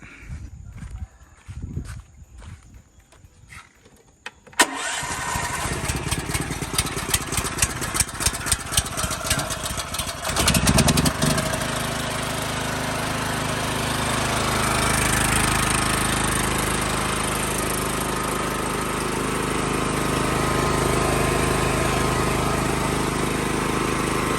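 An 8 kW gasoline generator is started with a few sputtering pulls and rattles, then catches and runs steadily, a loud continuous engine drone that settles into an even idle.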